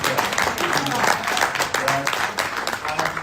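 An audience at a women's network retreat in Shanghai breaks into dense, lively applause, with voices and cheering mixed into the clapping throughout.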